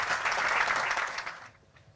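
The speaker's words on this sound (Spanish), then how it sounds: "Un aplauso muy fuerte para él, por favor." Audience at a business awards ceremony in Ceuta breaks into dense applause that holds strong, then quickly fades out within two seconds.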